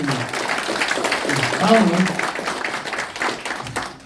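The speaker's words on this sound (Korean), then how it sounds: "우리 큰 박수 부탁드립니다" Applause at a party-merger press conference, a steady wash of clapping from the gathered audience lasting a few seconds while a voice speaks over it.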